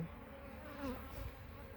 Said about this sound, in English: do have a bee that is angry with me and flying around my head right now.